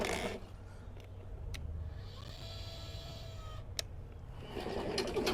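A Chinese remote-controlled lawn mower runs with a steady low motor drone and a thin electric whine above it, holding constant for several seconds at moderate distance, with a brief sharp click near the end and no talking.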